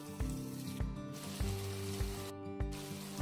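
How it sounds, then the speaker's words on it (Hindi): Tomatoes fry in a pan with a steady, close sizzle and soft crackling, cut by a few periodic clicks and ticks. "हमें टमाटर को भी फ्राई करते हुए 2 मिनट हो गए हैं।"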